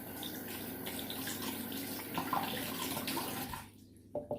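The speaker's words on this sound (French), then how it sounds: "Je vais me brosser les dents." Tap water runs steadily into a sink during tooth brushing, a soft, continuous splashing that stops near the end, followed by a few faint drips.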